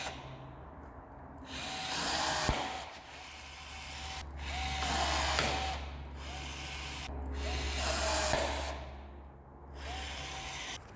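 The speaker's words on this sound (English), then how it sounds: "We'll throw the other 3 pop rivets in just to center the bracket." A pop rivet tool sets rivets into a snorkel bracket on a Toyota 4Runner, each pull a rising grinding squeeze ending in a sharp snap, repeated several times at close range.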